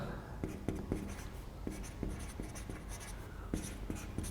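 Marker or chalk writing on a board during a Class 12 maths lesson on inverse trigonometric functions, with repeated short strokes and taps in irregular bursts, near and clear over a low room hum.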